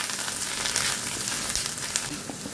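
Meat fries with garlic in a pan over a low-medium gas flame, giving a continuous close sizzle with small crackles and spits and no voices.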